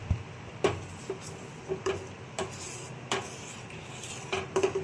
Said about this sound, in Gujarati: આ રીતે આપણે ધીમા ગેસે હલાવતા રહેવું ને ઉકળવા દેવું